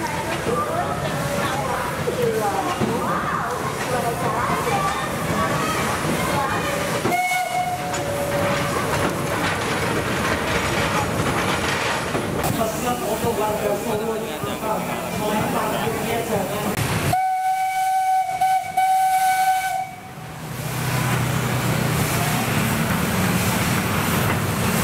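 A special Indonesian locomotive decked in red-and-white Independence Day ornaments rumbles past, its clattering run broken by long tonal whistle blasts near the middle and again toward the end.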